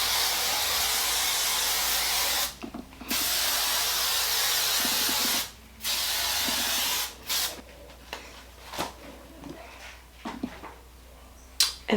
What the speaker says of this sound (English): I'm just gonna spray it with a little bit of hairspray.